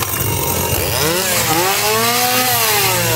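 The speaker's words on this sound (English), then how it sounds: "Oh boy, they got lots of chainsaws everywhere." Chainsaws at the Halloween Horror Nights entrance roar loudly and up close, engines revving and swooping in pitch again and again without a break.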